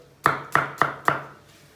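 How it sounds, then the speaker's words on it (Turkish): Four crisp knife chops strike a cutting board in a quick, even rhythm, close by, as onions are chopped. "Hemen soğanlarımızı doğruyoruz."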